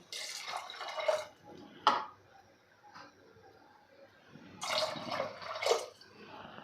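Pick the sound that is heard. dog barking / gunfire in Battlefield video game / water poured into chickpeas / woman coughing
water poured into chickpeas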